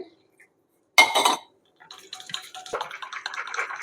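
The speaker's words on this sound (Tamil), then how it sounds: "இப்போ இந்த தயிரை வந்து கொஞ்சம் கடைஞ்சி எடுத்துக்கலாம் கொஞ்சம் தண்ணி விடுறேன்" Water poured into curd in a kitchen to make buttermilk: a loud splashing pour opens, then after a short gap a longer stretch of softer trickling and clinking from the vessel, with no talking.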